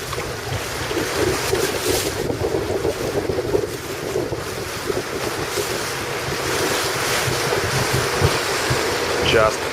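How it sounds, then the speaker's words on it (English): A strong gust roars across the microphone aboard an RS700 dinghy sailing on Lake Garda, with steady wind buffeting and waves splashing against the hull for about ten seconds. "Full gust."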